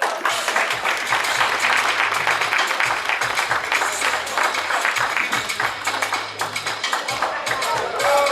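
A crowd claps at a tenth-anniversary celebration gala, loud sustained applause with dense rapid hand claps, under a low musical hum and some voices.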